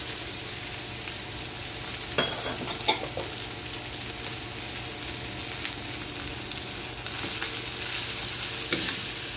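Onions sautéing in rendered pork fat for pinakbet give a steady, close sizzle throughout, with a few sharp clinks of a utensil against the pan.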